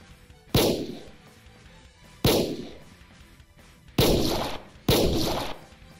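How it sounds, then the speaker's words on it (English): Four sharp pistol shots ring out in a Minecraft game, spaced unevenly over several seconds, each a loud crack with a decaying tail, the last two coming close together. "so I killed them using my pistol"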